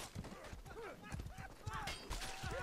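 Horse hooves clip-clop in a video game during a Myrmidons versus VK-B match, a busy patter of rapid hoofbeats mixed with battle clatter under excited commentary.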